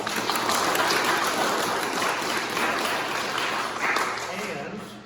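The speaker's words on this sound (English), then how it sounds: "Give her another round of applause." An audience at a 2020 children's literature festival award ceremony applauds steadily for several seconds, a dense, sustained clapping that fades slightly toward the end.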